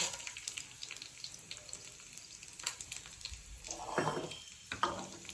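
Quiet crackling sizzle of cumin seeds frying in hot oil, with a brief louder burst of sizzling and some stirring or clinking near the end.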